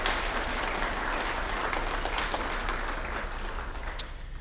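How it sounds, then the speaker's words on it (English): Continuous round of applause from the audience at an athletics hall of fame ceremony dinner, even and sustained, heard from some distance with a low room hum beneath. "Let's give all of them once again a well-earned round of applause."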